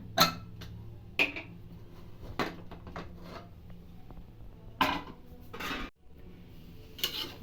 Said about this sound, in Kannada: ಕುಕ್ಕರ್ ಮುಚ್ಚಳ ತೆಗಿತಾ ಇದ್ದೀನಿ